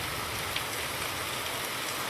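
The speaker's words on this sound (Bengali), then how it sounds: "বৃষ্টি দেখো ভাই, মানে তুমুল বৃষ্টি, তুমুল তুমুল।" Heavy rain falls in a steady, dense hiss, constant and even throughout without wind or gusts, heard alone with no voices.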